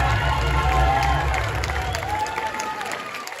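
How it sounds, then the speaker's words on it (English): A concert audience at the Fremont Theater applauds and cheers after a rock song, dense clapping and shouts filling the room loudly before tapering off near the end. "Round of applause."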